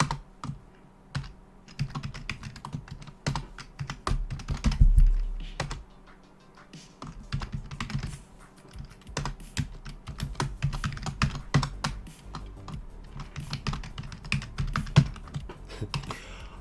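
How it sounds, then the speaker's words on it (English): Rapid, uneven typing on a computer keyboard, a dense stream of close, crisp key clicks with short pauses and bursts running throughout. "it sometimes feels like I'm just attacking the keyboard."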